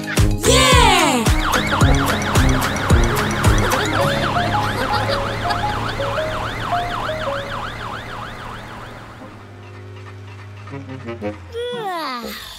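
A cartoon fire engine siren wails in a children's animated song, its rising and falling tones repeating steadily over a bright musical backing for most of the stretch before fading near the end.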